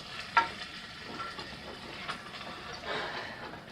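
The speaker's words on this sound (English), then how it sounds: "You'll stir the risotto until each ladle is absorbed into the rice fully." Risotto being stirred in a pan with broth, a soft scraping and gentle simmering sizzle with a few louder spoon strokes near the start and around the middle, close by and without voices.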